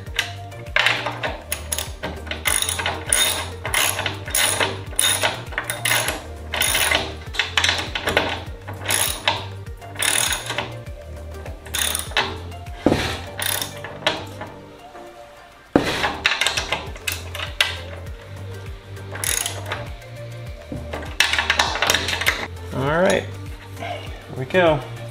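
Bolts being tightened on the main wing spars of a Sonex aircraft, with rhythmic metallic clicking and clanking of tools close by, repeated in bursts, with some talk in between.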